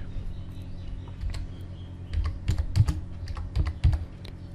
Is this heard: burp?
no